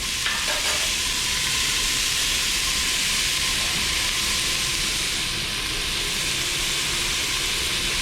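A shrimp mixture for chupe de camarones sizzles steadily in a hot pan, a constant loud frying hiss with no talking.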